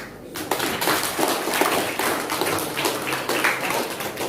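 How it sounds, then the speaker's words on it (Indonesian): Audience applause in a classroom presentation setting, a dense, steady wash of many hands clapping that stays fairly loud for several seconds. "Sekali lagi aplaus"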